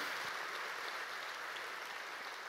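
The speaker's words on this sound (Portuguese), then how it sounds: "Quem pode dar um aplauso a esse Deus maravilhoso?" A church congregation claps for God during a sermon, a faint, steady wash of applause heard from a distance.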